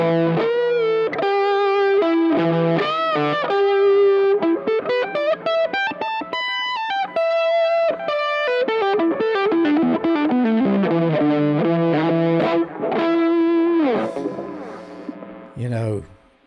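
An electric guitar plays a fast, melodic lead with distortion and echo effects, sustained notes ringing and repeating densely, loud and close.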